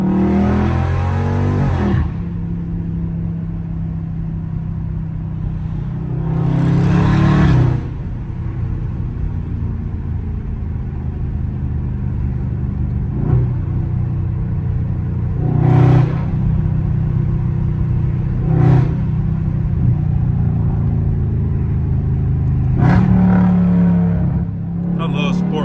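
A loud Dodge Scat Pack engine drones and rumbles continuously while driving, with several sharp rev blips from repeated downshifts spaced through the run.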